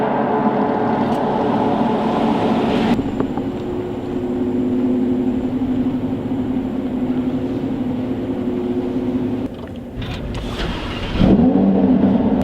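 A Lamborghini Huracan Spyder's engine drones loudly and steadily on the road, with a brief dip and a deeper rising rev near the end, heard close with no talking.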